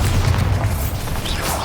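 A Bombarda spell in Hogwarts Legacy erupts in a loud, close, deep boom that rumbles on for over a second with a crackling tail.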